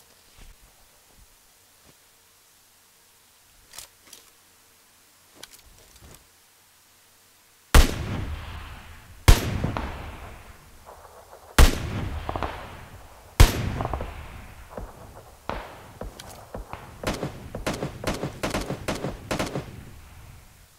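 Gunfire aimed at the player in the battle royale game PUBG Lite: a few faint distant pops, then a run of loud sharp shots and quick volleys cracking nearby with echoing tails.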